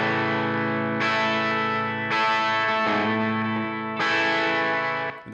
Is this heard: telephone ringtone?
no